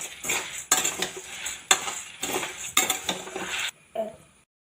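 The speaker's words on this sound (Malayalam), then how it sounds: "ചുവക്കുന്ന വരെ ഇളക്കുക" Red chillies being stirred in a pan with a metal utensil until reddened, giving repeated scraping and clinking strokes with a faint sizzle, close and unaccompanied by talk, ending in a short quiet tail.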